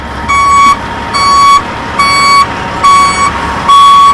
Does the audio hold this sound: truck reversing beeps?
yes